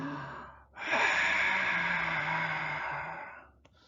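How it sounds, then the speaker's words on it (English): A patient draws in a single long, deep breath. It begins with a sharp gasp and becomes a loud, airy inhalation lasting nearly three seconds before it fades, close and with no talking. "another patient were to take this deep breath"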